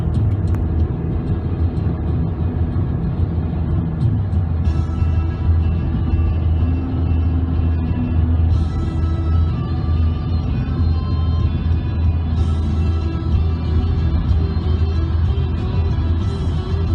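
Car driving along with a steady, loud low rumble of engine and road noise throughout, close and continuous with no talking.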